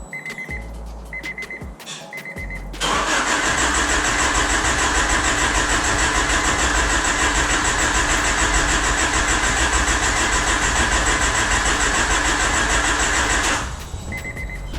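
A few short electric whirs and clicks as a 1989 Honda Prelude's fuel pump primes, then its engine cranks and roars into a loud, steady run before cutting off near the end.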